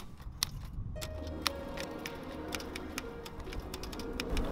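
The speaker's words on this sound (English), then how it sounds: "The only sound heard is the continuous typing as the man edges closer to the unknown." Continuous typing of sharp, irregular key strikes close up, with a faint ringing tone and low background rumble underneath.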